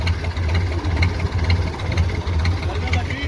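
A boat engine without a silencer runs loud and rough on a ride near Karachi, a steady throbbing idle with a knocking beat, while people talk over it.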